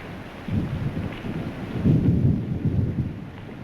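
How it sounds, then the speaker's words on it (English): A steady summer shower of rain falls throughout, with low rumbling thunder swelling in the middle and continuing to the end, no voices over it. "Well, it's the usual summer shower."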